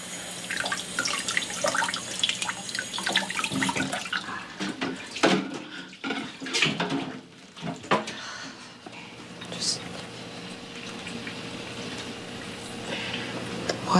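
Water runs and splashes in a domestic scene from a 2018 TV movie as something is dropped into it. The splashing is uneven and close, with people talking over it.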